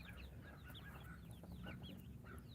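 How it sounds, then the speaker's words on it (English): Baby chicks chirp in a quiet brooder, a busy overlapping stream of short high peeps from several birds at once, soft and close with no talking. "these chicks are very happy"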